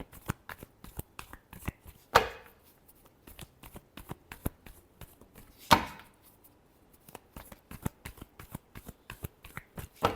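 Tarot cards being shuffled by hand close up make a run of crisp, papery riffles and taps. Two louder slaps of the deck stand out among them.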